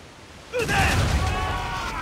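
Ship cannons fire in the naval combat of the video game Assassin's Creed Rogue, one loud sudden boom that swells into a sustained rumbling roar with crashing water.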